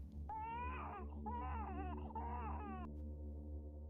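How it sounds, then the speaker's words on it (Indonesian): An infant wails in a rising, wavering cry through the midnight quiet of a horror audio drama, three drawn-out sobbing bursts over a steady low hum, faint and distant. "tiba-tiba dari kejauhan sayup terdengar suara tangisan bayi."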